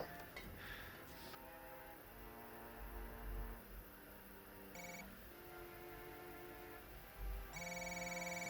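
A telephone rings unanswered in a Breaking Bad episode, repeated electronic ring tones over a steady hum, moderately loud and alone with no talk.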